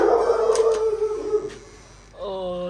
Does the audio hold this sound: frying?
no